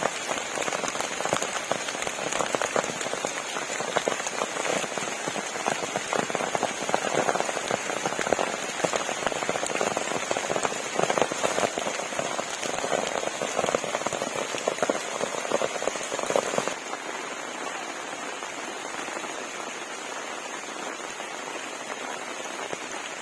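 Steady rain pours down outdoors, a dense even patter on surfaces close by, easing slightly to a softer, thinner fall near the end.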